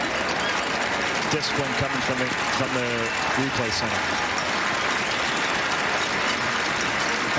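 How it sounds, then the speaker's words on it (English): Ottawa football fans applaud in the stands at TD Place during a CFL game against Winnipeg, a steady broadband crowd wash running the whole time beneath a commentator's voice. "a round of applause from Ottawa fans here at TD Place as Wheatfall gingerly walks off the field"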